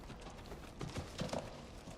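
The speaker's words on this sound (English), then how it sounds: "I think that's supposed to be a horse just walking around." Horse hooves walk in the video game Silent Hill 2, a few soft, hollow clops spaced irregularly in the middle of the clip over a quiet ambient background.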